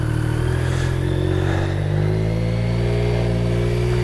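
BMW K75 motorcycle engine running at a steady, loud idle after being started with the choke on, a continuous close mechanical hum and rumble with no talk.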